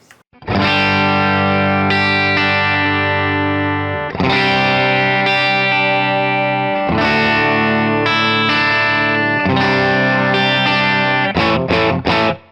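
A Stratocaster-style smart electric guitar with built-in effects strums full chords with a crunchy, shimmering processed tone, sustained loudly in a few long phrases before a quick flurry of strums at the end.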